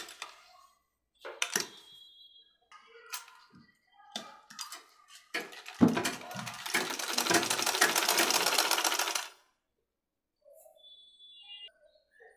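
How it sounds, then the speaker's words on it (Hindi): A sewing machine stitches men's underwear fabric, opening with scattered clicks and handling noises before a loud, steady close whirr of stitching runs for several seconds and stops abruptly, followed by quiet small sounds. "यहाँ से हम लगा लेंगे सिलाई"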